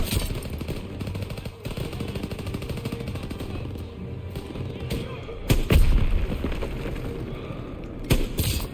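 Gunfire in the Call of Duty WWII video game, with a lighter sniper rifle among sharp shots and booming bursts over a continuous battle din, punctuated by a couple of louder cracks near the middle and end; a player talks over it.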